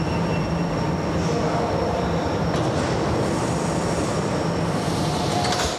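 Metro train at a station platform on a newly opened third metro line, a steady loud rumble of wheels and rail noise running throughout, ending with a sudden cutoff.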